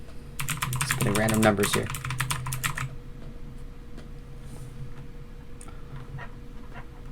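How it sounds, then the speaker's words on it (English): Rapid, close keystrokes on a computer keyboard enter an IPv4 address on a Windows 10 PC. A short burst of clicks comes with a brief spoken remark, then fades to sparse, quieter taps. "type in the IPv4 address you want to reserve to it"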